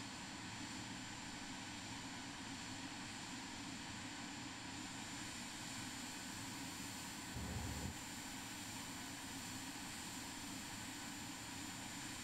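A FlyingIron FFX Vision Jet G2 in Microsoft Flight Simulator 2020 gives a steady, even jet-engine drone with high whine and broad rumble, held constant throughout with a brief low thump midway, no voices.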